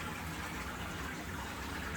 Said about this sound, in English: when you flush the toilet, water comes out of here.